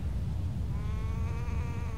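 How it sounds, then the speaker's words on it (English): A sheep-like bleat rings out in the Wind Waker video game, a wavering, harmonic animal call that swells midway and carries on over a low background rumble. "It sounded like a sheep, first of all."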